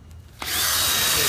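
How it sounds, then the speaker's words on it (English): A power drill bores holes into a wall during a wall repair. A brief quiet start gives way to a sudden, loud, steady whirring grind that continues to the end. "as you're drilling out your 4 holes and the rest of the bolts as well"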